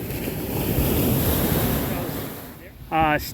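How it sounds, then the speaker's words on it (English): Ocean surf waves breaking on Cocoa Beach, a steady close rush and roar of water with wind noise, fading slightly near the end as a brief voice cuts in. "Wait for a good wave to get him back."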